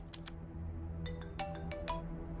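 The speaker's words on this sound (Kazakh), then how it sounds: "Галип байке чалып атат." A mobile phone ringtone plays an incoming-call melody of bright repeating tones, loud and close, over a low background hum.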